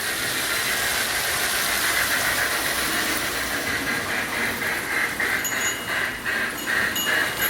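A Marx toy train locomotive runs on a home layout with a steady mechanical chugging whir and faint rhythmic clicking, continuous and close throughout.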